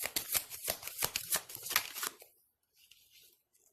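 Angel Answer Oracle cards being shuffled, a quick run of crisp riffling flutters for about two seconds, then only faint scattered rustles of the deck.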